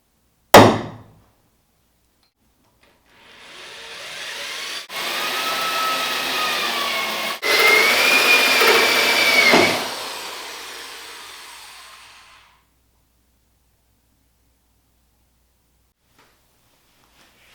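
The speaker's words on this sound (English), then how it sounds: "So I drilled that one hole last night" A drill bores a hole in a car hood for vents, preceded by a sharp knock, then a whining run of about nine seconds that rises in pitch and strains before spinning down into silence.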